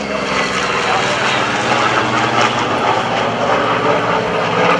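A Douglas Skyraider propeller airplane flies at the 2015 NAS Oceana Airshow, its piston engine droning loudly and steadily with a rough, buzzing growl that holds throughout without pause.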